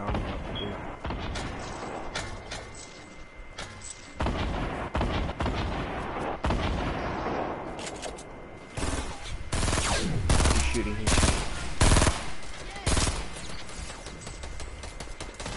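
Rapid gunfire bursts from a shooter video game, loud and close, arriving in repeated volleys with short gaps between them.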